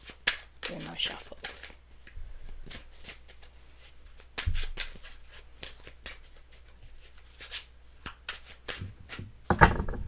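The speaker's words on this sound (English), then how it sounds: "Three more shuffles." A deck of cards is shuffled in several quick riffling bursts spread out over time, close and crisp, with a person talking quietly between them.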